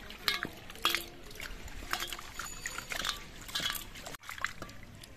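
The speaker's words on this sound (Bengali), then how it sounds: "হাত দিয়ে চটকে চটকে আদাগুলোকে বেশ ভালো করে ধুয়ে নিতে হবে।" Ginger pieces being squeezed and washed by hand in a bowl of water, with repeated splashing, sloshing and the clink of a metal vessel in quick irregular bursts, close by, no talking.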